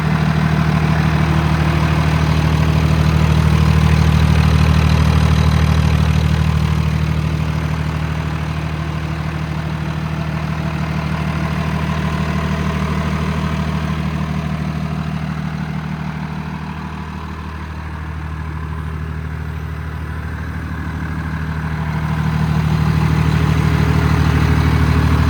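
A 2021 Kenworth T270 truck with a PACCAR PX9 engine and 103k miles idles with a steady, close, deep droning hum that swells and dips gently in loudness over about twenty-five seconds.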